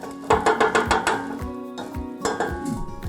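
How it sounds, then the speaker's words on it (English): A utensil scrapes and clinks against a pot while vegan curry is stirred, a quick run of metallic knocks followed by a few slower clanks, close and clear with no talking. "Give that a good stir"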